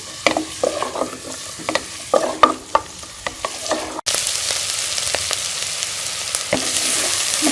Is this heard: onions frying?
yes